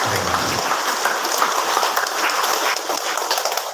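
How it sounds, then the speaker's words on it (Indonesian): A church congregation applauds at an Easter Saturday vigil Mass, a dense, steady wash of many hands clapping that carries evenly through the whole stretch without a voice on top. "mari kita tepuk tangan untuk seluruh"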